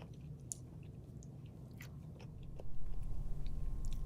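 Half of a sour pickle is chewed close to a lapel mic, giving faint, wet crunching bites and soft mastication against a quiet room.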